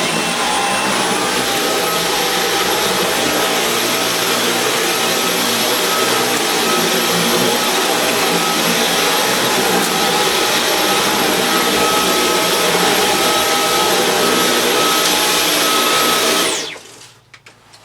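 A Dyson V11 Absolute cordless vacuum cleaner runs on thin pile carpet with a loud, steady, high-pitched whirring roar that holds evenly, then winds down and stops near the end.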